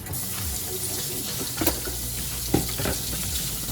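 A tap runs steadily into a sink while plantains are rinsed in a home kitchen, a continuous close water hiss with a couple of soft knocks.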